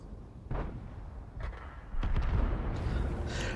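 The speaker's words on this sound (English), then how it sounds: "Somebody's shooting and missing," Tank cannon fire in the World of Tanks video game, heard as a few muffled booming shots and rumbling bursts spread across a few seconds, moderately loud with low-end rumble and no talking.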